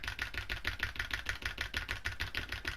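Keyboard keys are hammered in a fast, regular rhythm while editing in Fortnite, each press a sharp, close click repeating about a dozen times a second.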